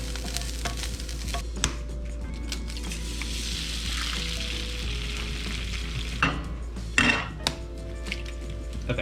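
Eggs fry in a pan for a breakfast burrito, with a steady sizzle under a low hum while a utensil scrapes and clinks against the pan, growing louder and busier near the end; no voices.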